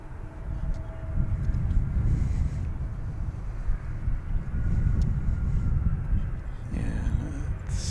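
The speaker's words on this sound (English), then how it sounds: "This is an Embraer 145XL" An Embraer 145XLR regional jet at DFW airport gives a steady low engine rumble with wind buffeting, fairly loud and continuous, ending in a brief higher rushing burst.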